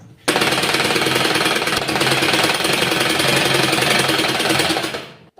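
A sewing machine runs steadily for about five seconds, stitching a seam on leftover fabric for a shirt, with a dense, fast mechanical chatter, close and loud, starting abruptly and stopping near the end.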